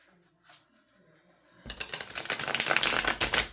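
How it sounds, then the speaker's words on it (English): A fairly new, stiff tarot card deck being shuffled, a few faint taps and rustles at first, then a loud, continuous riffling flutter of cards for the last two seconds. "I'm still getting used to shuffling this deck."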